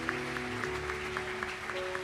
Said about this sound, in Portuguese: Eu quero convidar você a aplaudir o Senhor por esse dia, por essa noite,